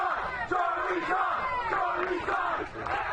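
A crowd at a high school baseball game roars and cheers loudly and continuously, a dense wash of many voices with swelling shouts and no clear single speaker.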